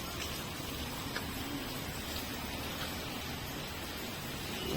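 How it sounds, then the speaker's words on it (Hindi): Steady rain falling continuously outdoors, a dense even hiss with no pauses, moderately distant and without voices over it. "कंटिन्यूअसली वर्षा हो चलती।"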